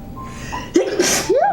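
One sharp, close sneeze bursts out, followed by a brief voiced exclamation.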